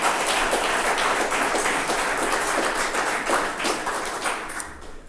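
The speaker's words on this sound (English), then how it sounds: "Please give them a round of applause for ably managing this balance." An audience at a Sierra Madre State of the City event breaks into sustained applause, dense and steady clapping that holds for several seconds before tapering off slightly at the end.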